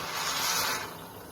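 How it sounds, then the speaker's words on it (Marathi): Hot water poured into a pressure cooker holding dal and rice for khichdi, a steady close splashing pour that eases off toward the end. "गरम केलेलं पाणी टाकून घ्यायचं।"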